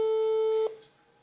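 A single telephone tone sounds on a call back, steady and clear for about two-thirds of a second, then cuts off into near silence.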